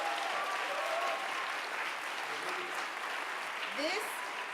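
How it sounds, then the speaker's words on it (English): A crowd at a student oratory festival applauds, giving a steady, even wash of clapping that holds for several seconds at moderate volume, with faint voices mixed in. "So one more round of applause, please."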